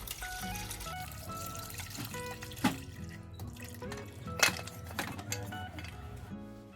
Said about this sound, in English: now we're gonna dump some of this broth in here